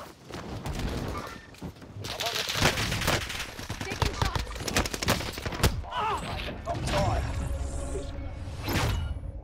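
Rapid bursts of C58 rifle fire in Call of Duty Warzone ring out in dense volleys with whooshes and impacts, loud and close, with a voice speaking briefly over the action.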